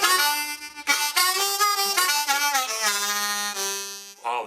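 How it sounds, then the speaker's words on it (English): A G harmonica played in its low register, rich reedy chords and bends sliding between sustained notes, loud and close, with no talk over it. "Oh, the G harp sounds so good."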